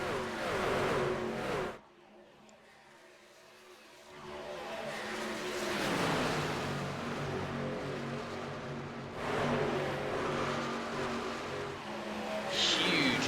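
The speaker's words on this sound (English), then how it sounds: "You hear them having to check up off the gas a lot there going into turn number 1" Race trucks in a sim racing video game lift off the throttle braking into turn one, engines rising and dropping as a pack of vehicles bunches up two and three wide, with a brief dip then roaring back, sounding loud and continuous.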